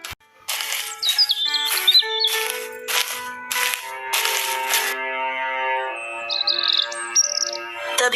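A magical bird appears amid colorful rays in an animated story, giving a few bright, high chirps wrapped in shimmering, chime-like sparkle bursts, close and clear, then another short chirping flourish near the end.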